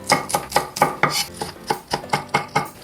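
A knife chops green onion thinly on a cutting board for a kimchi pancake, making about a dozen crisp, evenly spaced knocks in a quick, steady rhythm, close and clear with no talking.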